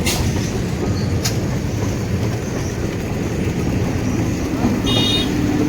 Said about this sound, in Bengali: সকালের ট্রেনগুলো একদম খালি ফেরে, ডাউন ট্রেন